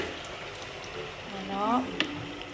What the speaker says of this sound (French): je vais rajouter mon eau